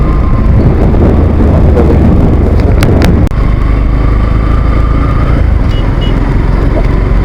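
A motorbike rides through water with a steady, loud engine drone and constant splashing wash, a brief sharp knock near the midpoint, and faint voices in the background.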